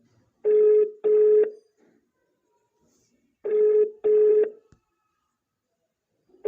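A telephone ringing tone heard down the line: two double rings, a pause, then two more, clear and steady against silence.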